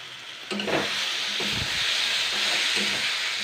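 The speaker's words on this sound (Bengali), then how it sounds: "এইবার আমি আলুটাকেও আমি 2-3 মিনিট কষিয়ে নেবো" Potatoes sautéing in a hot pan for a breakfast potato curry, giving a steady close sizzle and hiss with a few stirring scrapes, and no one talking.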